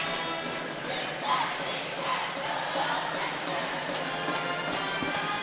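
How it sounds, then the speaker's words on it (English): A packed crowd fills a college basketball arena's convocation center, producing a steady roar of voices and cheering, with scattered shouts and faint court thumps throughout. "As we have a very packed crowd here in the Convocation Center"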